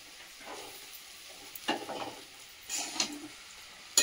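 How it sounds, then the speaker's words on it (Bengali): Rice being stirred and mixed with vegetables in a pan, soft scraping stir strokes over a faint sizzle, with a sharper metal clink at the end, no talking. "অর্ধেকটা ভাতটা দিয়েছি, দিয়ে যে মিশিয়ে নিচ্ছি এর সাথে, সবজির সাথে"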